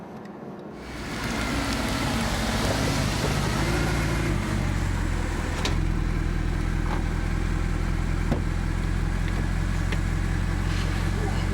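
An SLS sports car is driven on a race track, its engine rising after a second into a steady, loud, continuous drone with a rushing, rain-like noise that holds to the end.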